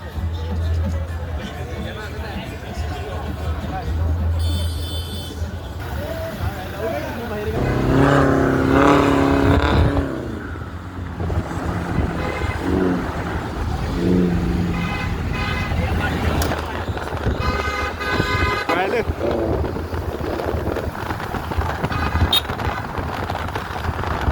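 Cars drive past at a 26 January car rally, their engines rumbling steadily with occasional horn toots, while crowd chatter and voices carry through the whole stretch.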